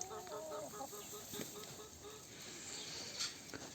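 Faint chickens cluck and a rooster calls softly outdoors in a chicken run, scattered short bird sounds over a steady background hiss.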